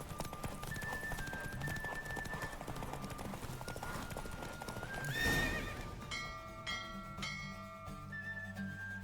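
A galloping horse races in The Witcher 3, hoofbeats pounding steadily under game music with a neigh near the middle, then continuing at a close, even pace.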